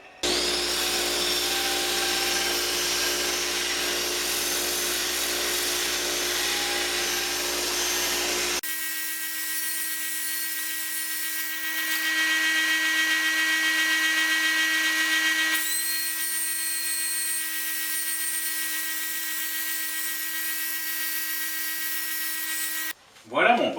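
A Record Power Coronet Herald wood lathe hums steadily while a bowl is being turned, a continuous tonal whine with shifting texture as the tool cuts, ending in a brief clunk.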